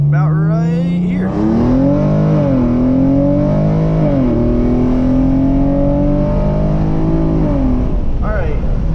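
Tuned Hyundai Genesis Coupe 3.8 with full bolt-ons accelerating at full throttle, a loud in-car engine roar climbing steadily through the revs with brief dips at gear shifts, close and continuous, with a voice speaking briefly at the start and end.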